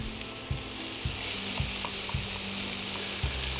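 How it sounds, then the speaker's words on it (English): A large sweet onion and finely chopped celery sauté in butter, giving a steady close sizzle with soft periodic stirring knocks against the pan. "we're gonna saute 1 large sweet onion, and 1 cup of finely chopped celery"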